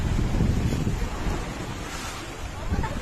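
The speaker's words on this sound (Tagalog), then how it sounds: "Medyo mataas po yung tubig kaya kung mapapansin nyo, ganyang kalakas yung kanyang alon" Rough, fairly high surf washes in steadily on a beach in Batangas, Philippines, broad and loud, with wind buffeting the microphone throughout; no one speaks.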